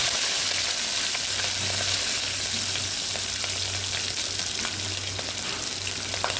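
Chillies crackle in a hot tempering with asafoetida and curry leaves for varan, a steady, close sizzle with faint stirring scrapes and a pulsing low hum underneath.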